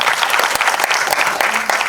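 A crowd at a ghazal album launch event claps loudly and continuously in a dense burst of applause lasting about two seconds.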